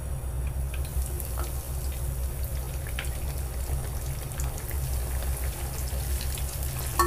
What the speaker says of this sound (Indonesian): Kita masukkan telur yang sudah diadonin tadi.